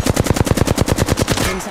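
Automatic weapon fire in the battle royale shooter Apex Legends, a rapid burst of about fifteen loud, evenly spaced shots that ends with a brief electronic tail.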